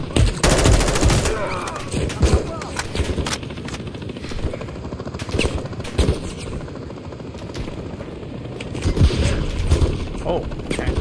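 Gunfire in Call of Duty: Modern Warfare 3, a fast rattling burst at the start followed by scattered sharp shots amid helicopter and battle noise, loud and close, with talk mixed in.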